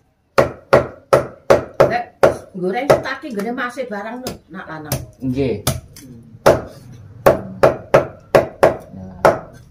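Whole chicken being chopped into frying pieces, KFC-style: loud, sharp cleaver strikes land in a steady series, pausing while people chat in Javanese and Indonesian, then resuming in quick regular blows.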